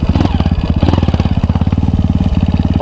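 A Honda CRF dirt bike engine idles loud and close, its rapid, even pulsing chug running steadily throughout without a break.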